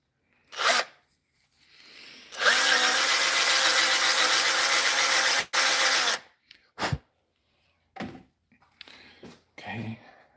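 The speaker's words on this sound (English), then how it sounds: "I actually need to drill a little bit more because I forgot about the knot." A drill boring out a knot in a woodturning piece: one loud, sustained drilling run of several seconds, with short knocks and taps before and after it.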